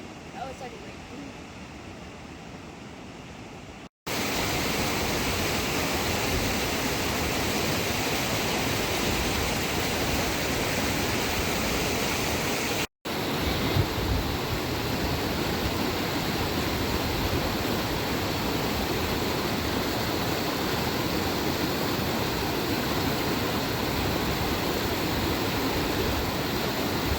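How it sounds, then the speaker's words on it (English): Rain falls during a hike near a river mouth in Grand Teton National Park, a steady dense hiss that holds evenly throughout, briefly cutting out twice. "Oh, it's starting to rain."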